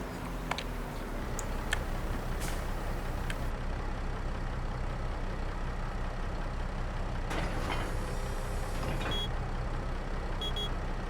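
A vehicle's reversing alarm in a Mars terraforming video game repeats steady beeps over a constant low engine rumble, with no talk.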